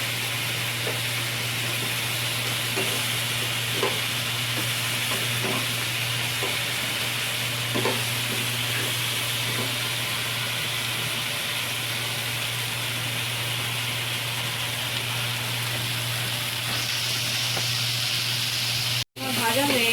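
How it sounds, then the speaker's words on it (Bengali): Ingredients for khichuri are stirred and fried in a pan, a steady close sizzle with scattered scraping stirs under a constant low hum. "ভালো করে একটু নেড়ে চেড়ে ভেজে নেব।"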